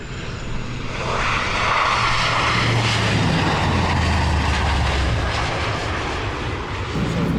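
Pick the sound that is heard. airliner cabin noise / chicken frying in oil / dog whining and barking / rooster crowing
airliner cabin noise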